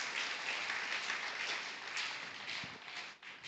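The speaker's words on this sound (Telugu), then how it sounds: "గట్టిగా చప్పట్లు కొట్టండి." A church congregation at a Telugu Sunday worship service applauding, a dense, steady wash of many hands clapping together, fairly distant and even throughout with no break.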